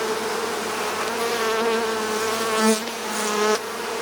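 Bees hum around a top bar hive under inspection, a close, continuous droning buzz that swells and fades in pitch as insects pass near, with no talking.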